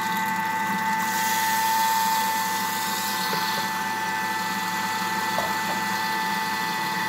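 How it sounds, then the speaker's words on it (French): A Thermomix set to speed 4 whips cream with a constant high-pitched motor whine, close and steady throughout, with no talk. "c'est comme ça que je fais ma crème fouettée avec le Thermomix"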